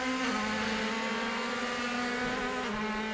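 DTM race car heard onboard at Hockenheim, its engine a loud, steady high-pitched whine holding nearly constant revs, with a slight pitch shift near the end.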